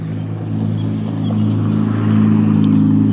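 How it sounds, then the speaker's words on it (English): A car rumbles past on a street in Olney, Illinois, a loud, steady engine drone that swells toward the end as it nears, with no talk. "Excuse me, a car is coming."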